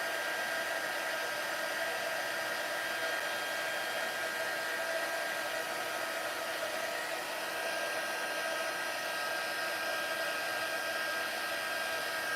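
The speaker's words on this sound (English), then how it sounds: "you're just going to start melting all of that embossing powder" A heat embossing tool blows hot air to melt embossing powder on a paper Christmas fun fold card, giving a steady, even whirring hiss of a small blower that runs unchanged throughout with no voices.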